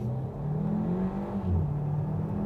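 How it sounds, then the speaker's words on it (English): A 2024 Hyundai Kona engine revs up with a low, rising drone during a 0-100 km/h run, and a brief throaty pop comes from the exhaust as it accelerates. "A little bark out of the exhaust."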